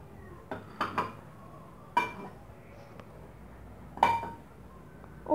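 A clay tagine pot and lid are handled in a kitchen, giving a few sharp, separate clinks and knocks, fairly close and quiet.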